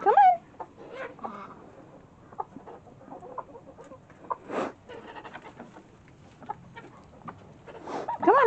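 Chickens cluck in short bursts close by, with a few louder squawks and a person speaking briefly now and then.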